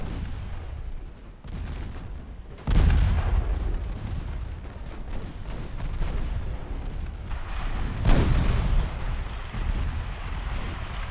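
Torpedo salvo launched from a warship in the naval combat game Ultimate Admiral: Dreadnoughts, a heavy booming blast with a sharp onset that rumbles on, followed by a second loud thud a few seconds later over a constant battle din.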